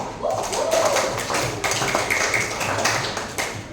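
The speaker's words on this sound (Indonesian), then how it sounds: "Oke, hebat, tepuk tangan lagi" Students in a classroom clap together in a short round of applause, dense and steady for a few seconds, with a teacher's voice faintly mixed in.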